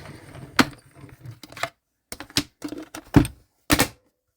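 Embossing folder with a 3D pattern and plate cranked through a manual die-cutting machine for a card: a series of close, separate thunks and clacks in uneven rhythm, loudest near the end, with brief silent gaps between.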